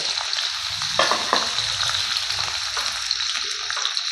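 Pieces of peeled boiled potato fry in hot oil for aloo baingan bharta, giving a continuous close sizzle with a few louder crackles and spatters, alone without talk.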